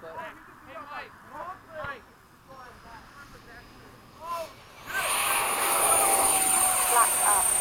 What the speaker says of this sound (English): I'm just doing a touch and go now.